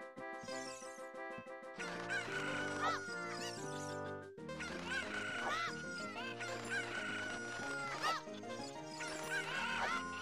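Cucco chickens cluck and squawk in Zelda: Ocarina of Time over bright, melodic game music. The bird calls come in short bursts throughout, sitting up front against the steady tune.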